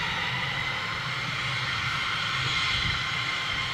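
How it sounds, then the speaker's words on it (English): Jet airliner engines heard while plane spotting near Istanbul, a steady, continuous roar with a whining tone, moderately loud and unchanging, with no talk over it. "Listen to those engines."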